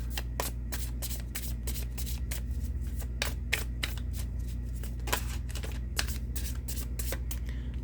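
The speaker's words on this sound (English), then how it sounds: "Let's see what the astrology cards have for us that can add to this." Astrology cards are shuffled nearby, a continuous run of crisp riffling flutters and slaps repeating in quick bursts over a low background hum, with no voices.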